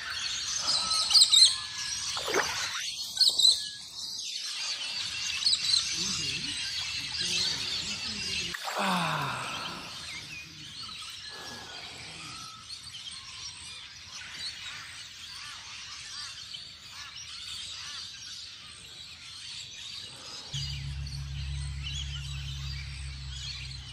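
Scattered bird chirps in an Australian outdoor setting, a few sharp calls early on amid quiet background hiss, with a low steady hum near the end.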